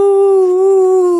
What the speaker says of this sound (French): tu fais hurler le chien du voisin